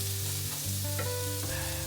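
Chopped onions sizzle in a hot pan as they turn translucent, a steady soft frying hiss with faint stirring, under a continuous tonal musical hum.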